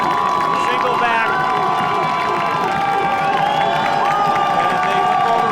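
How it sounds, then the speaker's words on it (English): A college football crowd at a Ripon College versus Augustana College game roars loudly and continuously, with shouts and whistles rising over the steady din. "this crowd is getting live again"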